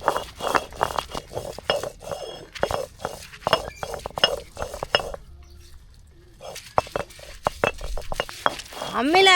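Thuthi leaves, ground with onion and garlic, are worked on a stone ammi grinding stone, giving repeated close scraping and knocking strokes in a steady rhythm, with brief clinks and a short pause midway.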